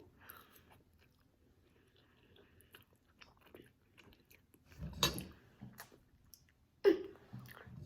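Someone chews a bite of a simple cooked pasta dish in a mostly quiet room, with faint mouth sounds building to two louder, sharper bites near the end.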